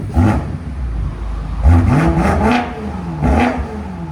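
A 2018 BMW M5 Competition with a 4.4-litre twin-turbo V8 and Dinan cat-back exhaust revs hard in three quick blips, each sharp rise falling away into a rumbling idle, close and loud.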